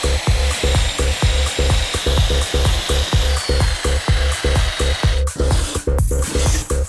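A power tool grinds and sands edges in a steady rapid pulsing rhythm, loud and close, running continuously with a brief high-pitched whine near the end.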